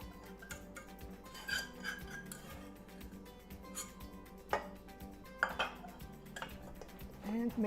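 A spoon stirs sauce into apple pie filling in a bowl, giving a run of light clinks and scrapes of utensil on dish that is close, fairly quiet and irregular, with no talk.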